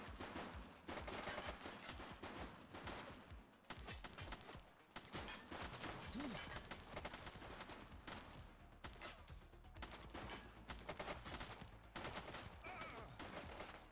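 Rapid bursts of police-shootout gunfire from The Precinct video game, dense cracking shots running steadily throughout at a faint, distant level with no clear pauses.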